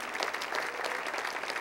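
A brief burst of dense room applause from an audience honoring standing police officers at a city address, steady and moderately loud.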